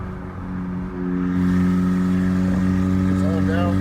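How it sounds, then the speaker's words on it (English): In-cabin sound of a VW MK7 GTI with its exhaust cutout open: a steady, loud engine drone with strong low exhaust tones, swelling as the car pulls harder partway through, with brief rising whines near the end. "But let me switch on the exhaust cutout."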